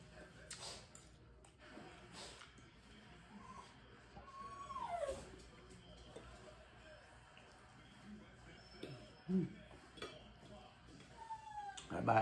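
A dog begging for food whimpers and gives thin, high yips close by, with intermittent whines and soft kitchen clatter behind them.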